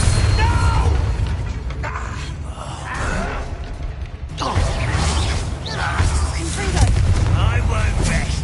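Bombarda blasting spell in Hogwarts Legacy: booming explosive bursts rumble through a loud, dense mix of game sound, with several heavy swells across the span.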